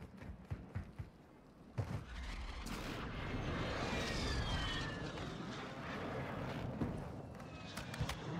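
A precision airstrike in the Call of Duty Warzone video game: a sustained roaring, rumbling rush of jet engine and explosions, steady and loud for several seconds, broken by earlier sharp thuds.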